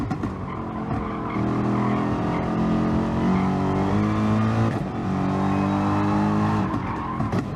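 Gr.3 race cars at Fuji Speedway in GT Sport, several engines droning together at high revs with shifting harmonic tones, a gear change dipping the pitch briefly before climbing again, loud and continuous.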